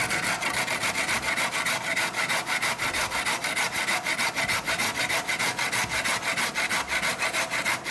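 A carrot rubs briskly back and forth over a hand grater in a fast, even rhythm of rasping strokes, close and continuous with no voices.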